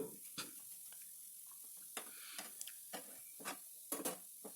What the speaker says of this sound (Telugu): ఇప్పుడు క్యారెట్ తురుము వేసి మంచిగా కలుపుకోవాలండి